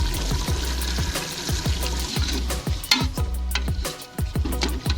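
Spice masala with tomato frying in a pan for village-style aloo gosht, loud close sizzling broken by repeated rhythmic stirring scrapes and knocks of a spoon against the pan, with no voices.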